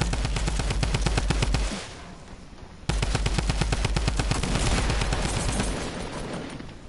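Rapid bursts of automatic gunfire ring out from behind the player in Fortnite, loud and continuous with a brief pause before the firing resumes.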